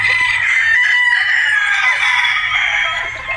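Boston Roundhead gamefowl, pullets and roosters together, give a loud, close, drawn-out rooster crow that fills the clip, with no voices.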